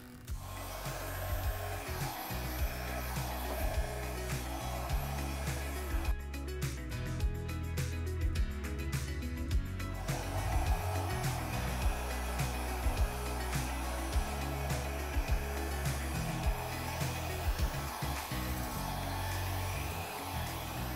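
A hair dryer blows steadily across wet acrylic pour paint, a loud continuous whooshing roar that runs unbroken with slight shifts in pitch as the airflow moves.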